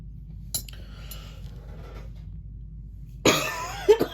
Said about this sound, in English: Excuse my cough, I'm so sorry.